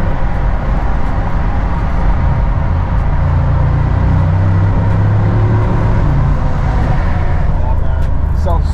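A Mercedes-Benz G63 AMG in Sport Plus mode drones loudly through a tunnel, its engine and road rumble building into a dense, echoing roar with faint voices at points.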